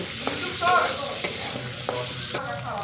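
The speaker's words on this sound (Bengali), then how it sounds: "এবার মটরটা ভেজে নেব।" Sprouted peas frying in a pan for fried rice, a dense close sizzle with sharp pops and stirring clicks over a brief stretch.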